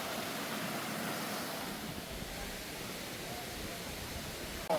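Steady rushing water of a hidden waterfall at Kasarvadavli, a broad continuous roar that stays even and fairly loud throughout, with no talk over it.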